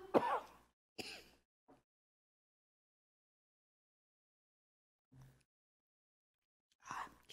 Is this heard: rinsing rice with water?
no